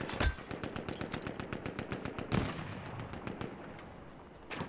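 Rapid automatic gunfire in Battlefield 1 team deathmatch, bursts of sharp repeated shots with a couple of heavier blasts, continuous and fairly close, no talk.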